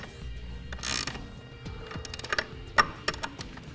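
A ratchet tightens hardware on a Yakima BlockHead truck bed bike carrier mount, producing close, quick mechanical clicks and rattles in short irregular runs with a brief scraping rush.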